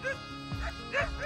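A few sharp barks and yips from village dogs in India at moderate distance, spaced unevenly across a short moment.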